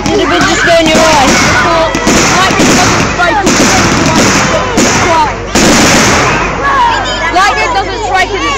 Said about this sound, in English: Fireworks versus lightning. Imagine that. Fireworks win.